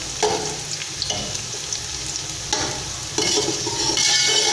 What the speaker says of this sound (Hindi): फिर हमें इसको लाइट ब्राउन करना प्याज़ों को